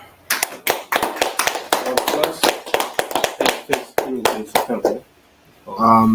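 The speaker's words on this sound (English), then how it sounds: "All right, clap it up." A group claps hands together in a steady, fairly rapid rhythm for about five seconds, loud and close, then the claps stop and a brief voice follows.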